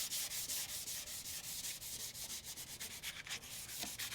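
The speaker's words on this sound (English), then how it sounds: "This is just 400 grit sandpaper" A 1983 Yamaha XZ550RK Vision motorcycle part being sanded by hand with 400 grit sandpaper, quick rhythmic back-and-forth rubbing strokes, close and steady for the whole stretch.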